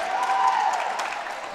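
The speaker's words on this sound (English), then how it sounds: "And big applause for our trainer, Marco." Short round of crowd clapping for a trainer at a college men's wrestling meet, moderately loud and steady, with a faint tonal hum beneath.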